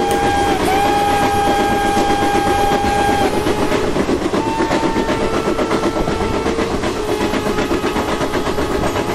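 An express train in the Open Rails simulator runs at speed through a station, loud steady rumble and clatter of wheels on track with a sustained horn blast early on and another later.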